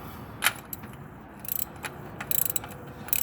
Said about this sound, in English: So the ratchet is on. And a good turn.